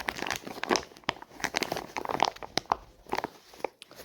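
Packaging being torn open by hand during a motor fan installation: repeated crinkling, crunching rips and rustles in irregular bursts, close and fairly loud, with no talking.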